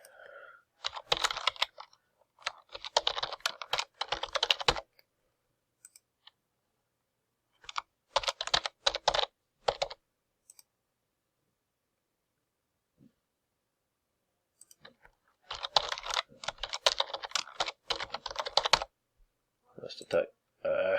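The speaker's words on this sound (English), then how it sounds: "I know I typed email in wrong." Login details being typed on a computer keyboard in three quick bursts of clicky keystrokes separated by silent pauses, close and fairly loud, with no talking.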